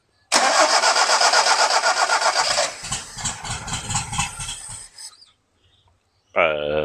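A barn-find Toyota Celica TA22 engine, primed with fuel mixed with two-stroke oil, cranks and catches. It runs loud and rough for a few seconds, sputters unevenly, then dies. A brief whine follows at the end.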